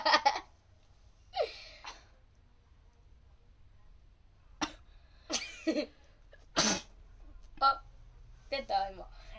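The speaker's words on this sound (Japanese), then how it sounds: "出た今くしゃみ。" Several sharp sneezes burst out one after another in a quiet room, each short and explosive, separated by silent pauses and a few softer breathy gasps near the end.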